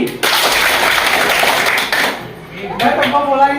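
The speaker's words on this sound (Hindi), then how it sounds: "ताली मारते हैं" A school hall audience claps hands together in a loud burst of applause that trails off, then rises again briefly.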